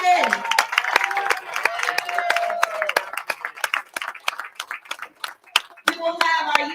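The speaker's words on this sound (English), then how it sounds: "a huge round of applause for our second place finisher, Miss Lucy Sandelin." Applause from the crowd at a senior women's bowling stepladder final, a dense patter of clapping that thins into scattered claps, with a voice over a loudspeaker speaking at the start and end.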